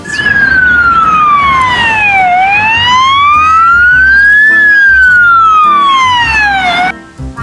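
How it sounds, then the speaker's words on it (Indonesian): A toy ambulance siren wails loudly and close, its pitch sweeping slowly down and up in two long cycles before cutting off abruptly. "Ada mobil ambulan."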